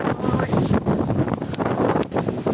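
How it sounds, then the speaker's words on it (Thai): Strong wind buffeting a microphone outdoors in the mountains near Moustiers, France, a loud continuous roaring rumble with gusty surges throughout, no voices present. "ลมวันนี้แรงอะค่ะ"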